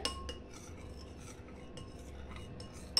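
A spoon stirs salt and sugar into curd to dissolve them for Madras chutney, with soft, quiet scraping and clinking against the bowl in irregular strokes and no voices.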